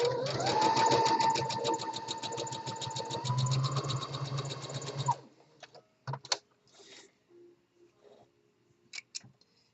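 A sewing machine stitches a half-inch construction seam through fabric for a Hong Kong or flat-felled finish, running in a close, steady whirring burst for about five seconds before stopping, followed by a few light handling clicks.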